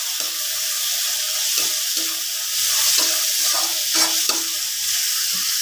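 Onion, garlic and tomato sizzle and fry in a pan while a utensil scrapes and stirs in repeated strokes, the hiss loud and steady close up, with no talking.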